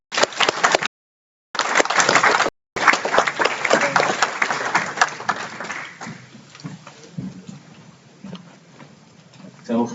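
An audience at a live trading masterclass applauds after a presentation, a burst of clapping that thins out to scattered claps, with voices talking over the tail end.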